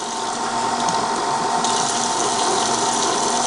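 Hot water from a kitchen tap pours in a steady, loud continuous gush for a few seconds, close by, with no talking.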